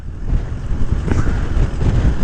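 A strong wind gust buffets a rider out on the road, loud roaring rush of air across the microphone that swells and holds through the moment.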